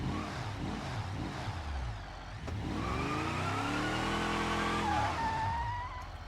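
A car in BeamNG.drive drives hard, its engine droning and revving while the tires squeal through a long skid in the middle and trail off near the end.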